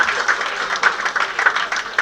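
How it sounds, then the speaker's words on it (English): A crowd applauding steadily at a rehearsal dinner, dense clapping at moderate volume with a few louder bursts, no voices standing out. "a lot of applause for them"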